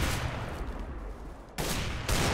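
Rapid gunfire in Counter-Strike: Global Offensive deathmatch, loud dense bursts of shots, with a brief lull before sharper volleys resume near the end.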